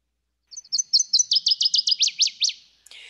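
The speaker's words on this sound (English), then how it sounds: "So I'm going to play the northern water thrush first." A recorded northern waterthrush song plays alone: a clear series of high, sharp chirps that accelerate and grow louder into a run of emphatic downslurred notes, ending in a brief flourish.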